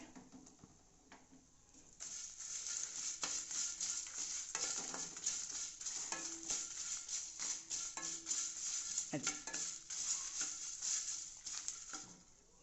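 Cumin seeds and spices crackle and sizzle in a hot pan while a spoon stirs them, steady frying noise starting after a quiet opening, with occasional scraping clicks.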